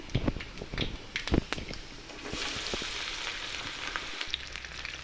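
Sliced elephant apple drops into hot oil seasoned with black cumin and panch phoron, giving a sharp crackle followed by a steady, close sizzle, with scattered clatters and pops on top.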